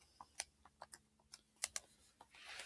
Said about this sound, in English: So typing that into our calculator,